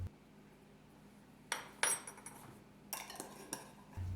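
A spoon stirs dry flour, salt and instant yeast in a bowl, giving two bursts of scraping and clinking against the bowl separated by a quiet pause, no voices.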